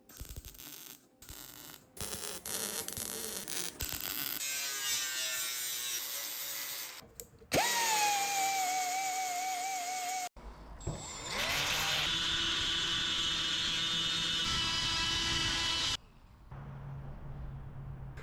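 Rusty VW Bus floor pan metal being ground with a power tool, loud whining bursts that start, stop and change pitch in several long runs, with brief pauses between passes.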